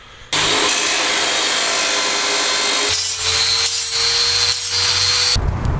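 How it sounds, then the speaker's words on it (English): Loud, continuous power grinder working the edge of a metal piece for a go-kart swing arm, a harsh sustained whine that shifts pitch midway as the tool loads and then stops abruptly, with no voices. "I always grind the edge first, that way you don't get an invalid measurement by all the burrs hanging off the end"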